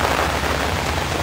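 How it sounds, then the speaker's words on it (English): Steady, loud rain during a tropical storm, a dense continuous hiss of drops pouring down with no pauses across the whole short stretch. "It's so raining."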